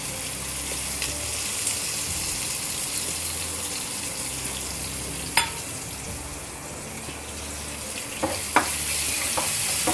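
Tomatoes fry in a pan with curry leaves as bread upma is cooked, giving a steady, close sizzle throughout, with a few sharp clinks of a spoon against the pan near the middle and toward the end; no one speaks.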